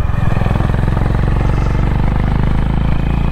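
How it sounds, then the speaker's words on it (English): Steady, loud engine drone of a Honda CB 350 Highness motorcycle on a long ride, with a continuous low harmonic rumble and slight pitch shifts as gears change, close and up front throughout. "I am shifting the gears to get a better control in those hairpin bends"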